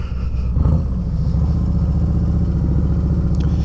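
A 2024 Harley-Davidson Street Glide idles and putters at low speed during slow maneuvers, its deep rhythmic V-twin thump loud and close, with a slight throttle blip early on.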